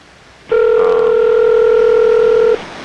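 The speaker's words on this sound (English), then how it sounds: "let's call Reed again" A single steady telephone tone sounds close and loud for about two seconds, then cuts off abruptly, with no voices.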